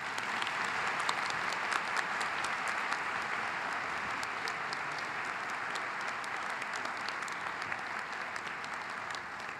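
Steady applause from a convocation audience at Boston University's School of Education welcoming speaker Marc Morial, a dense, even wash of clapping from a large crowd lasting throughout, with no speech over it.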